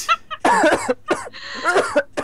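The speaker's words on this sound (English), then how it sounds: "Who was coughing?" A person gives a quick cluster of harsh coughs, a couple of short hacks followed by two longer rough bursts, close and clear.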